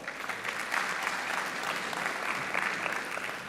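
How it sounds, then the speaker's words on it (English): A crowd claps steadily in a brief burst of applause at a college forum, heard from a moderate distance. "You can applaud."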